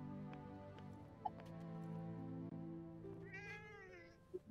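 In the video game Forspoken a cat lets out one rising, wavering meow late in the clip, heard over a sustained musical drone with a few soft clicks and taps around it.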